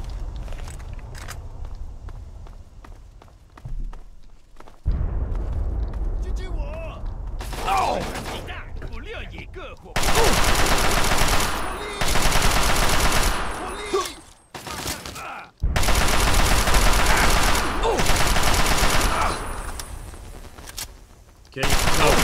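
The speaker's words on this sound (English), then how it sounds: "Let's switch back to the assault rifle." Assault rifle fire in Fallout 3 arrives as long, loud sustained bursts broken by short pauses, with footsteps and mechanical clicks and creaks in the quieter stretches before the shooting.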